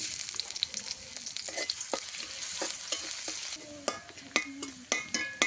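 Chopped onion fries in oil in a kadai, a steady close sizzle overlaid with crisp spatula scrapes that grow sparser and more distinct toward the end.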